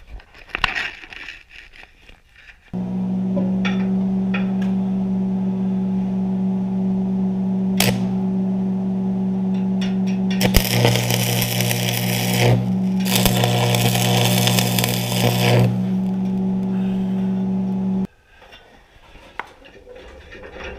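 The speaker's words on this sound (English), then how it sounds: "Okay, it's ready for welding." Welding a dirt cleaner onto a home-made food plot disc chisel plow, a steady buzzing hum with bursts of loud crackling spatter in the middle, running for about fifteen seconds between quieter handling noises.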